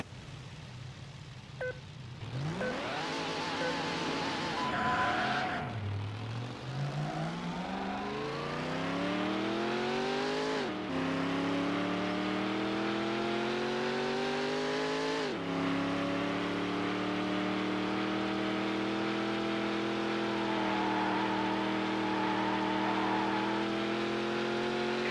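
Several racing car engines from Need for Speed: Hot Pursuit 2 rev and whine through rising and falling gear shifts, loud and continuous with near passes, a high-speed police chase with a black Dodge Viper and a pursuing Corvette.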